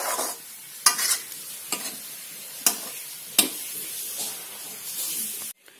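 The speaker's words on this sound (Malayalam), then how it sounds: "നന്നായി ഒന്ന് ഇളക്കി കൊടുക്കണം." A spoon stirs chicken cutlet mixture in a hot pan, with several sharp scraping strokes cutting through a steady frying sizzle and hiss, close by and with no voices.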